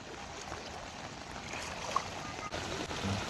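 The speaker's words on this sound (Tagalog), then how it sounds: "Sobrang lakas to ng agos." Strong floodwater current rushing through a flooded road in Occidental Mindoro during a typhoon, a steady broadband wash of turbulent water heard close up and continuous, with no voices over it.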